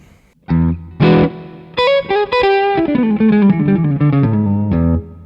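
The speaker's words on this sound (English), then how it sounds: "this is my favorite reverb sound" Distorted electric guitar through a REVV D20 amp playing a short melodic phrase of sustained notes, loud and close, with a washy reverb tail trailing each note.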